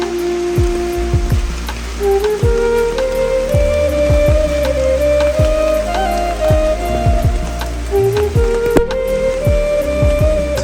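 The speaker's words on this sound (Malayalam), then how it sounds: "അതിൻ്റെ ഇടയിൽ മഴ." Steady rain falls, with many close drops and drips pattering over a continuous wash. A tonal background hum runs underneath throughout, and the level stays fairly even and moderately loud for the whole stretch.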